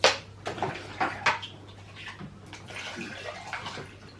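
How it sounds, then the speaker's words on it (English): Water splashes and pours into containers as young children play with water, with a run of small sloshing bursts and drips close by, fairly quiet, with no clear talk. "once they pour water into this container"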